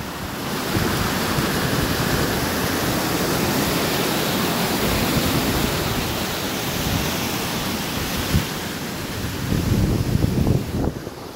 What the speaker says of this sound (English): Approaching Sandy Saddle Falls.